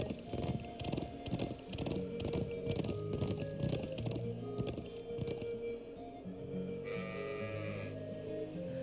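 Repeated sheep bleats sound over soft background game music and effects in Trails of Cold Steel, moderately quiet and steady throughout.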